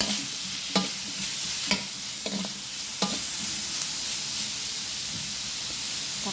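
Pakbet vegetables with tomatoes sizzle loudly in a pot as a utensil stirs them, a dense continuous hiss broken by a few sharp scrapes near the start.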